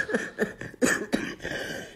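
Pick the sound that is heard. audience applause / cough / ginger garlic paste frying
cough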